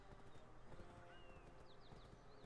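Hooves of a horse in a video game clip-clopping at a steady trot, fairly faint, with a few short whinny-like chirps and clicks scattered over the top.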